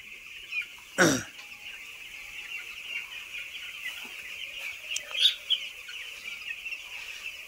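A crowd of broiler chicks chirps and cheeps continuously at a steady level in a poultry shed, with one louder, sharper call standing out near the start.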